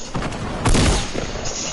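Gunfire in the video game Fortnite: a burst of loud, sharp shots with one heavy blast near the middle, crowded and echoing, over a busy game background.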